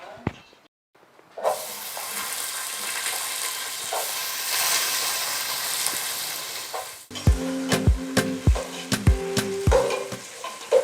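Onions and mixed vegetables hit hot oil in a pan and break into a loud, steady sizzle, then sharp clanks of a utensil stirring against the pan come through over the frying.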